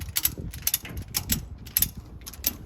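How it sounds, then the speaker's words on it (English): A ratchet strap is cranked tight on a car hauler while a 2000 Chevrolet Camaro is being loaded, giving a series of quick, close metallic clicks in short irregular bursts. "Now start ratcheting."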